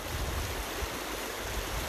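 Creek water flows steadily through Loyalhanna Gorge, a continuous broadband rushing wash close by with no voices.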